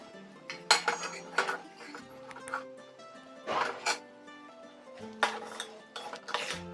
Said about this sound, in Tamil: முந்திரி திராட்சை ஆட் பண்ணி நல்லா கிளறி விட்டு